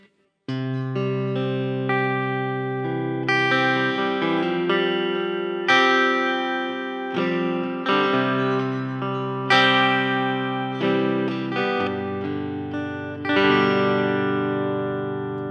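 Clean electric guitar through the clean channel of a NUX Mighty Lite BT practice amp, playing sustained chords and ringing single notes with a bright, undistorted tone; no talking.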